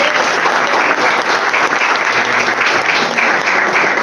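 Church congregation applauding steadily at a worship service, a dense, continuous wash of clapping from many hands throughout with no break.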